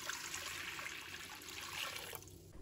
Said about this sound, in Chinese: 接下来起锅倒入清水